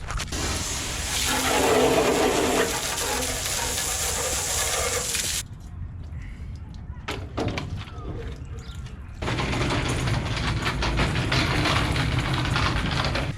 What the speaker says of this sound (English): we're gonna go ahead and rinse it all off